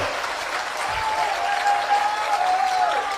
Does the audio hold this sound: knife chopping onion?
no